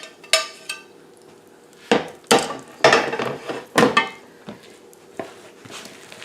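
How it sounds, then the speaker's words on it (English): Spoon knocks and scrapes against a bowl while sausage and bacon muffin mixture is stirred, a series of sharp irregular clacks close up with quiet gaps between. "Stir everything together till it's well mixed."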